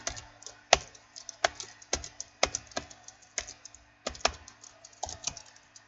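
Typing on a computer keyboard during Minecraft server setup, quiet close-up key clicks in uneven bursts with brief pauses, no voice.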